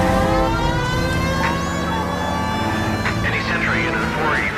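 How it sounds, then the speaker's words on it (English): A police car siren wails in the video game L.A. Noire, its rising and falling tone sounding over a low, steady engine hum while someone talks. "We might get there quicker if you use the siren."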